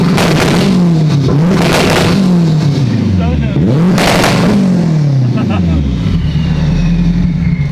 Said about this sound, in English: Clutch in and floor it.